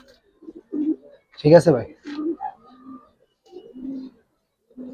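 Black Giribaz pigeons give soft, low coos in short separate bursts, and a voice breaks in briefly partway through.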